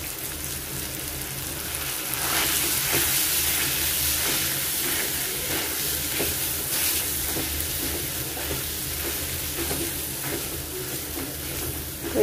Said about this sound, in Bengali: এইভাবে একটু আলু ভর্তাটা তেলের সাথে একটু ভাজা ভাজা করে নেব।